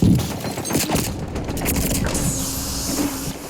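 Bursts of rapid automatic gunfire rattle through a Warzone match, with rapid overlapping shots and mechanical clatter forming a sustained, fairly loud barrage over the whole stretch.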